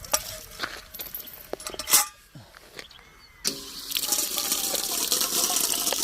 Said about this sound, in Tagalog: Lagyan natin ng malamig na tubig.